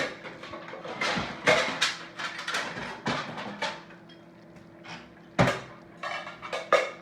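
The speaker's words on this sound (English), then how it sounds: "let me get our bowl" A bowl is taken out and handled in a home kitchen while cooking shrimp and lobster Alfredo, with dishes clinking and clattering in a series of sharp, close knocks and rattles, loudest near the end.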